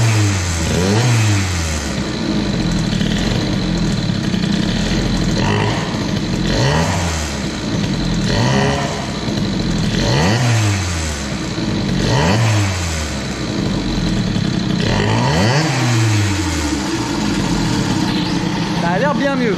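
A scooter engine fitted with a Malossi G1R cylinder and Boost cylinder head revs repeatedly: loud, close, rising and falling blips of the throttle at a steady rhythm over a buzzing idle.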